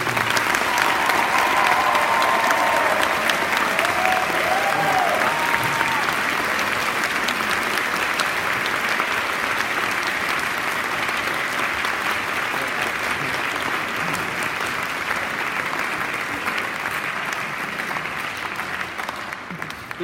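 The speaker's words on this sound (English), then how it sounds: "let's right now give them a big round of applause for all these guys" Sustained, loud audience applause at an awards ceremony, a dense wash of clapping that holds steady for about twenty seconds and eases slightly near the end.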